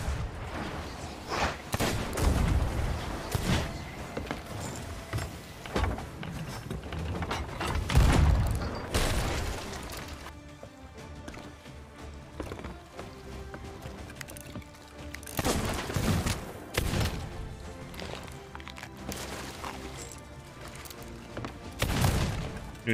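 Gunfire in the pirate game Sea of Thieves during a player-versus-player fight, with repeated sharp shots and heavy booms in scattered bursts over a busy background; loud, with no talk.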